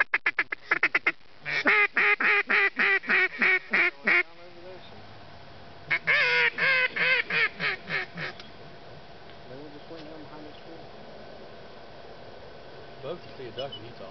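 Repeated loud honking calls in rapid series, like geese or ducks near water, come in two bursts with quieter calls later in the clip. People talk in the background.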